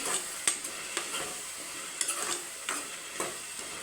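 Halved onions frying in a pan with a close, steady sizzle, broken by a spatula scraping and tapping every half second or so.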